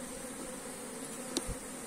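Honeybees buzz around a hive fitted with a pollen trap, a faint continuous droning hum with one brief closer buzz passing by.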